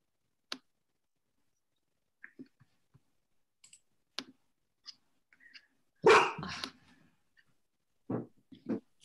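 A dog barks during a town conservation commission meeting, a loud burst of several yelps near the middle with a few sharper barks toward the end, among scattered quiet clicks and room noise.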